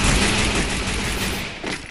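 Free Fire gunfire: a dense, unbroken burst of rapid automatic shots that stays loud and close throughout, with no voices.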